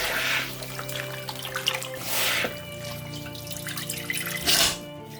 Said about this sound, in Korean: 밥하고 고구마하고 같이 섞인 거를 구석에 이 물로 같이 씻을 겁니다